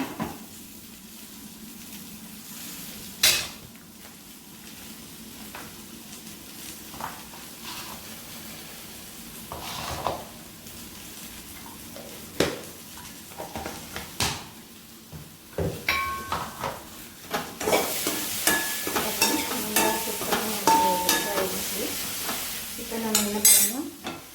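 Okra gravy sizzles and bubbles steadily in a pan, growing louder and busier toward the end, with occasional clinks and scrapes of a utensil against the pan.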